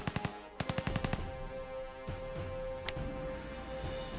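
Rapid bursts of gunfire in the video game OpenGeneral, set in the Polish-Bolshevik war of 1919-20: two quick volleys of sharp shots, then scattered single cracks over a low rumbling background.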